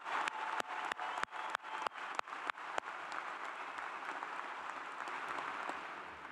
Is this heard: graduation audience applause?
yes